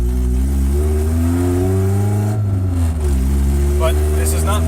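A station wagon engine with an open header, not yet broken in, drives along with a loud, steady droning rumble that rises and falls slightly in pitch as a voice talks over it.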